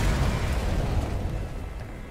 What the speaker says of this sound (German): Das Piratenschiff explodiert und hinterlässt einen Haufen nützlichen Schrott.